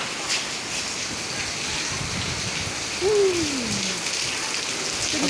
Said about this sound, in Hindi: लेकिन बहुत बारिश हुई है, लगातार बारिश तो रुक ही नहीं रही थी।